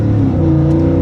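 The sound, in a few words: car engine revving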